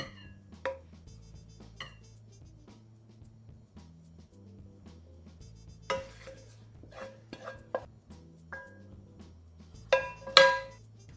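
Stir-fried cabbage is served onto a plate with scattered clinks and scrapes of utensils against cookware, several sharp metallic taps standing out amid quiet stretches and a low background hum.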